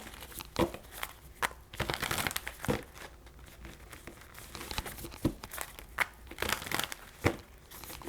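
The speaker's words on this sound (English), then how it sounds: "Cards is shuffling." Tarot cards shuffled by hand, giving repeated papery riffles and soft crinkling flutters in uneven bursts, close and moderately quiet, with no talking.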